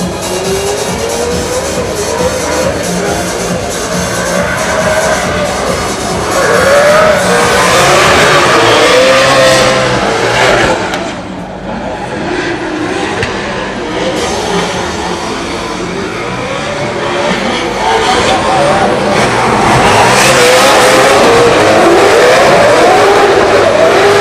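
An RTR Ford Mustang drift car at a Drift Masters 2026 practice session in Ireland revs and slides, its engine note rising and falling in loud, continuous waves. Tire squeal and skidding run underneath, and crowd and track noise fill the background.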